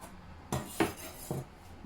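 A knife cuts through rolled-out croissant dough on a work surface, giving a few separate sharp strokes and taps against the board, close and clear with no talking.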